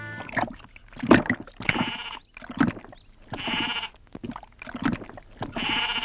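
A goat bleats repeatedly, a series of wavering, nasal calls spaced a second or so apart, fairly close and clear.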